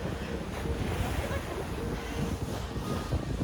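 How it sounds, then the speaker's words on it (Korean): Ocean waves break and wash steadily at sunset, a dense, continuous roar of surf mixed with wind buffeting the microphone, with no clear talk over it. "파도 치는 소리까지 아주 아주 좋네요"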